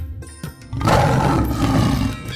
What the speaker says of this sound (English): the Gir forest in Gujarat is the only place in Asia where the Asiatic lion's roars can still be heard